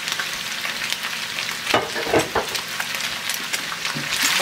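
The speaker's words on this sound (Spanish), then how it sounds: "vamos a dejar que empiece a dorar también más la carne junto con el elote" Beef and fresh corn kernels frying in a pan for steak in green salsa, a steady close sizzle with a few louder stirring scrapes and pops near the middle, building slightly toward the end.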